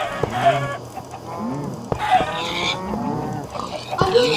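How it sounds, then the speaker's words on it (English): Minecraft chickens and pigs in a Hypixel party game, repeated short clucks and squeals in quick bursts, fairly close and loud, with a few sharp hit sounds between them. "No, I hit a chicken with negative."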